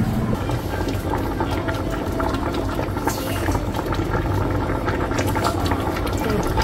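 Corn kernels cooking in a pot of boiling water for Cameroonian corn tchap, a steady bubbling and churning roil filling the whole stretch without pause, close and fairly loud, with no voices over it.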